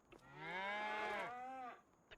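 A single long, loud cow moo rises and falls inside a cow barn in the farming game Farming Simulator 25, heard alone against a quiet background.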